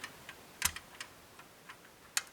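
Faint, sharp metallic clicks come from lock pins as a picker works a lever lock; a few are scattered irregularly, with one louder click near the start and one near the end, and no talking.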